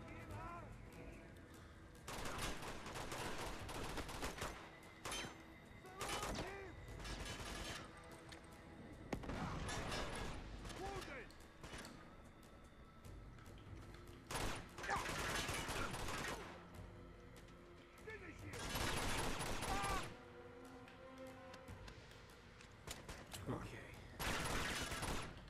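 Shotgun and other gunfire in the video game Uncharted 2, repeated loud blasts and bursts of shooting in clusters, with game sounds and talking mixed in throughout.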